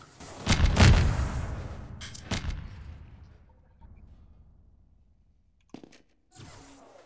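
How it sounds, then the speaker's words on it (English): Gunfire in Half-Life 2 Deathmatch: a loud burst of shots opens, followed by another sharp report, then quieter scattered shots and a final crack after a pause. "somebody's shooting at me"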